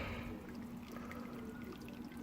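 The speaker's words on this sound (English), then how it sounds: "it's just dripping out a bit there" Wort drips and trickles out of a Braumeister 20 litre brewing system during an English barley wine brew, giving a steady close liquid patter over a constant low hum with no voices.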